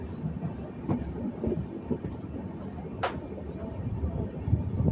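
A Visakhapatnam–Mahabubnagar express train slowing as it nears a station stop, with a steady low rumble of the carriages, a faint wheel squeal and a sharp brief screech near the middle, heard from inside the coach.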